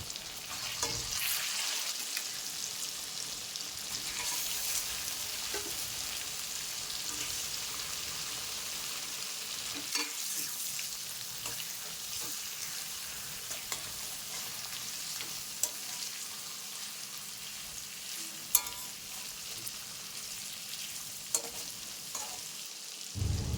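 Marinated rohu fish sizzles steadily in hot oil, a continuous broadband crackle with occasional sharper pops, close and fairly loud with no voices.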